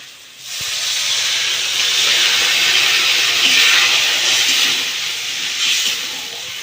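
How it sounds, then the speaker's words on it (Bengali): Water poured into hot spiced oil while cooking Bengali egg curry sets off a loud, steady hissing sizzle that rises suddenly and holds, swelling and easing slightly for several seconds with no talk over it. "মশলা তেল ছেড়ে গেছে, ওটা আমি অল্প জল দিই।"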